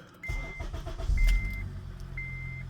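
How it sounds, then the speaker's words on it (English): An Acura car's engine cranks and starts up, a low rumbling idle settling in with a brief louder surge as it catches, accompanied by repeated high electronic chime beeps from the dashboard. "So I'm gonna start the car up."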